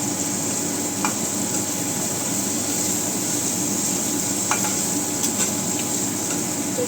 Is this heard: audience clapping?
no